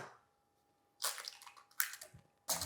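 Cold water poured gradually into tempura batter for king prawns, heard as three separate close splashy pours, each breaking off abruptly, with quiet gaps between them and no talking.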